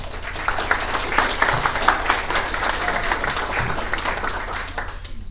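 Sustained applause from an audience at the Salado Chamber of Commerce candidates' forum in Texas, a dense, steady wash of many hands clapping for several seconds.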